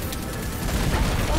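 Rapid gunfire and explosive bursts in the video game Destiny 2 during a raid, dense and continuous, with other noise layered over it.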